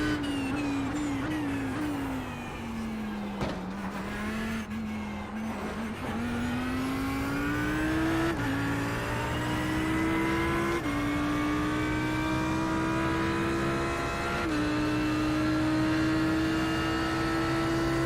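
Audi race car engine at Suzuka in a racing video game, droning loudly and continuously as it climbs through gears with brief shift dips, sustained high revs for the whole stretch, with no voices.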